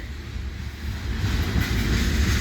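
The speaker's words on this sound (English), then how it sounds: "This train has a lot of shiny tankers" A CPKC freight train hauling many shiny new tanker cars rolls past at close range in London, Ontario, a steady loud rumble with clattering wheels that swells slightly, and no voices over it.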